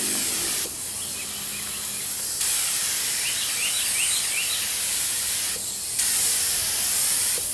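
A FX3000 paint spray gun sprays base coat onto a Honda Accord car bumper, a steady close hiss running throughout with short breaks in the spray, no talking over it.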